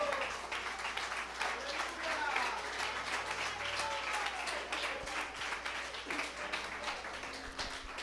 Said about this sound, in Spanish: ¿Por qué no le da un aplauso al Señor en esta hora?